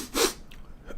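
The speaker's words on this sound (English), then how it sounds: "I just manifested a damn sneeze." A single short human sneeze, close and abrupt, followed by faint breathy noise.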